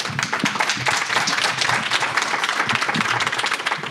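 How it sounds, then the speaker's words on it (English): Audience applause after a startup founder's pitch at a university event, a dense, sustained round of clapping from a room full of people, loud and steady from start to finish. "Big round of applause."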